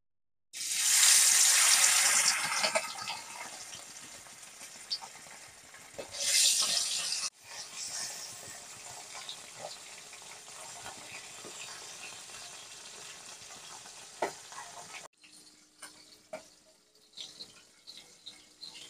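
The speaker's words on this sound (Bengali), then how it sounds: "তেল গরম হয়ে গেছে, এবারে আমি মাছগুলো ভেজে নেব।" Bata fish pieces hit hot mustard oil in a wok with a loud, hissing sizzle that eases off. A second sharp flare follows, then a steadier low crackle of frying with small pops continues close by.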